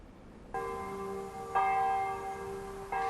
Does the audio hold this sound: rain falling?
no